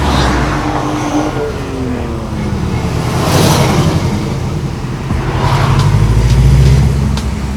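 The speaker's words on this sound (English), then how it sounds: "Possibly the only secluded area tonight to do burnouts." A car does a burnout at a nighttime car event, a steady loud engine roar and tire noise swelling and fading for several seconds amid crowd ambience.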